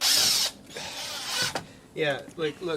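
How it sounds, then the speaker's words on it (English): A power drill driving a screw into wood, slipping and chattering when the bit is not held straight with the screw, sounding as a loud whirring burst followed by short ratcheting bursts, with a voice speaking briefly over it. "If I'm not lining my drill straight with the screw, it'll make that noise."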